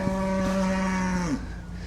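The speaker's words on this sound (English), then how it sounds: "here's my peaceful cows going at it again." A single cow gives a long, close, loud moo that holds steady before dropping off sharply at the end, with some low farm background noise underneath.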